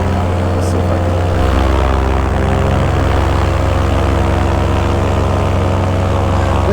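Paramotor propeller engine running in flight, a loud steady droning buzz close by that shifts slightly in pitch as it throttles, continuous throughout.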